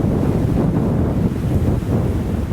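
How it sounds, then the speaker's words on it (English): Wind blows outdoors on a riverbank at a canal state park during fishing, a loud, steady low rumble of gusts buffeting the microphone with no other sound. "Wind's still blowing a little bit."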